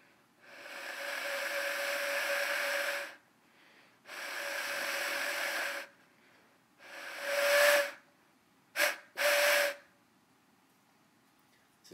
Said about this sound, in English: a death whistle with a horrific shriek to it